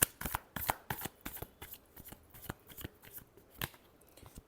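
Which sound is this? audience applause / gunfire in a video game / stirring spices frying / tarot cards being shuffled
tarot cards being shuffled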